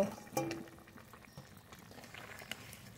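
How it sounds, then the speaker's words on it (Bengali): A homemade curry of potatoes, bitter gourd and fried singhi fish simmers in a pot with faint, soft bubbling and gentle liquid sounds, quiet and close. "আলু প্রায় সিদ্ধ হয়ে এসেছে, ভেজে রাখা জিওল মাছ দিয়ে দেব।"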